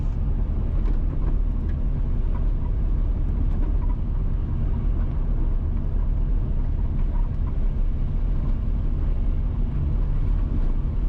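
A car travels along the Stony Hill to Parks Road, the Above Rocks main road, in St. Andrew, Jamaica, giving a steady loud interior rumble mixed with wind buffeting and no breaks.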